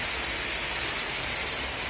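August summer rain falls over Skopje, a dense, even hiss of drops that stays steady and unbroken for the short stretch, with no voices.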